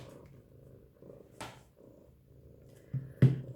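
Pet cat purring up close, a low, soft continuous rumble that swells and fades in gentle cycles, with a couple of brief rustles and a louder bump near the end.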